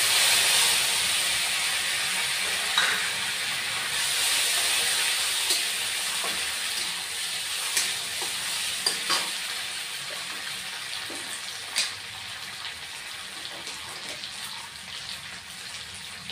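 Ground chili paste sizzles in a hot pan of oil while making a Bengali rohu fish curry, a steady, bright hiss that slowly settles, dotted with small pops and crackles, alone without talk.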